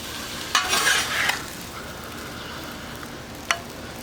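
Scrambled eggs scraped and scooped off a hot Blackstone griddle into a dish, with a brief burst of metal-spatula scraping followed by faint sizzling and a single sharp clink.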